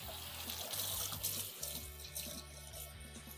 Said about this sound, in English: just rinsing off a couple things of celery